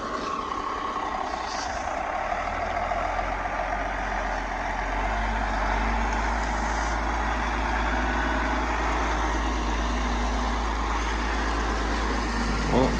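A car passes on a rural road near a self-loading logging truck loading poles, its engine rumble steady and fairly close throughout under continuous heavy low-end vehicle noise.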